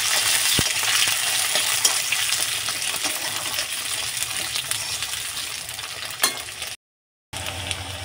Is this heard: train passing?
no